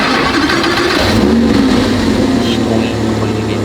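An Audi R8 V10 engine fires up and settles into a loud, throaty idle, with low rumbling throughout.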